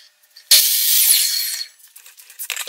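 A saw bites through a wooden piece for a step-stool bench, giving one loud, close rasping cut lasting about a second, then trailing off into lighter scraping and handling noises.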